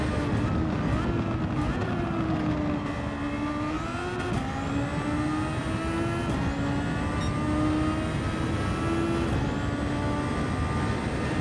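Super Formula SF19 open-wheel race car in Gran Turismo 7 at Watkins Glen, its engine screaming steadily at high revs with pitch rising and dipping through gear changes, loud and continuous throughout.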